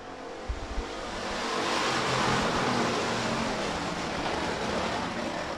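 Sportsman class race cars accelerate together at Rapid Speedway under green flag racing. The engine roar builds from a distance into a dense, sustained wash of sound that holds steady.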